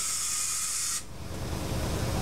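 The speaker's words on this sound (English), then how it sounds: "I'm going to blow through that tube." Air is blown through a tube of an Evinrude/Johnson outboard carburetor for a 60 or 90 degree loop engine, giving a steady close hiss that drops to a lower, rougher rush about halfway through.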